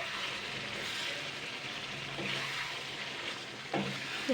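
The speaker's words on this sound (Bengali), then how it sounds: "এবার আমি ভালো করে নাড়াচাড়া করে নেবো" Fish oil chorchori frying in a pan with Maggi masala, stirred over steady sizzling, with a few scraping clinks of the spoon near the end.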